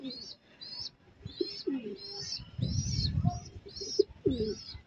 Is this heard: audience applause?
no